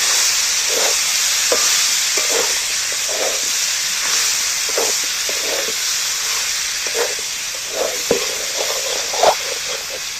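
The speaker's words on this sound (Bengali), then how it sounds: "এইবার আমি এঁচড়টা এর মধ্যে তুলে দিচ্ছি। এইবার একটু ভালো করে কষিয়ে নিতে হবে।" Young jackfruit curry being sautéed in a pan, a loud steady hissing sizzle punctuated by regular spatula scrapes and stirring taps throughout.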